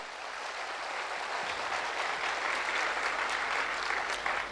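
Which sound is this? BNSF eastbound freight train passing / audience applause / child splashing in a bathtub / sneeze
audience applause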